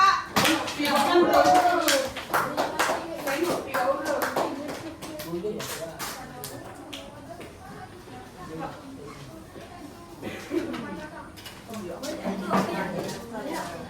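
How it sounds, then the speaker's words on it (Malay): A group of schoolchildren in a classroom claps for group 4, a dense burst of overlapping hand claps that swells early then thins into scattered claps, with children and a teacher talking throughout. "Bagi tepukan untuk kumpulan 4."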